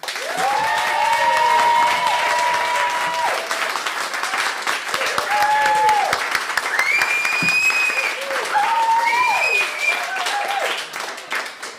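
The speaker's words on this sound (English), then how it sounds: "So let's collectively give a big round of applause for everyone" An audience applauds the women readers on stage at a sea-tales reading event, a loud, dense, sustained wash of clapping with whoops and cheers rising over it, thinning slightly near the end.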